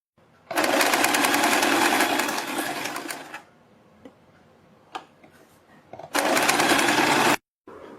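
A sewing machine stitches fabric for a plate-style neck design in two loud, steady runs of fast rhythmic whirring and needle ticking, the first about three seconds long and the second shorter, with quiet handling clicks between them.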